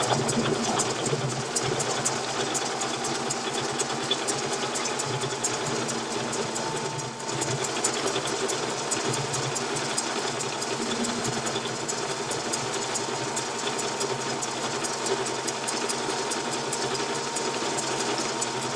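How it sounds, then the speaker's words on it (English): Metal lathe facing the end of a steel rod, with a continuous dense mechanical whir and a fast rattling texture at an even level from start to finish, no talking. "let's face off a piece of steel rod"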